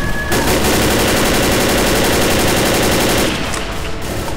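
Sustained rapid automatic gunfire in Left 4 Dead, loud and close, a dense unbroken stream of shots lasting several seconds before cutting off into quieter background noise.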